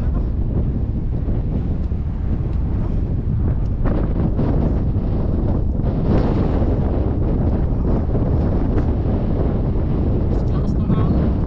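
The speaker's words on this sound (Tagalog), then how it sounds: "Lakas ng hangin." Strong wind buffets the microphone on a fishing boat at sea, a loud, constant rushing roar with water noise underneath and faint speech mixed in.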